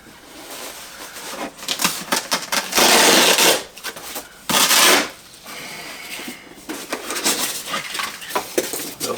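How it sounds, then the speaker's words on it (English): Velcro straps ripped open one after another on the packing box of a large 1/3-scale Vampirella statue, giving loud tearing bursts separated by quieter handling and rustling, close up. "Alright, we got Velcro straps. Velcro strap number 1."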